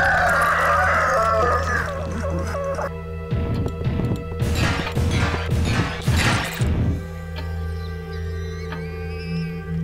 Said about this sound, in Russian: Курица.